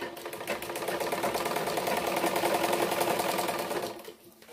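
A sewing machine hums with fast, steady stitching as it sews down a half-inch hem fold on a lungi, running continuously at close range before slowing to a stop.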